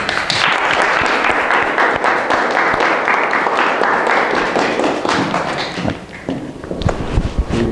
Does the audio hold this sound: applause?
yes